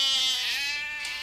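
Goats on a Norwegian fjord farm kept for milking and brown cheese bleat in a drawn-out, wavering call that carries clearly and close, with a second fainter cry near the end.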